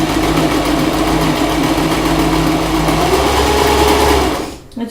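A Janome sewing machine hums steadily and loudly as it stitches, its motor drone continuing without a break before stopping abruptly at the end, with a brief spoken remark over the running motor.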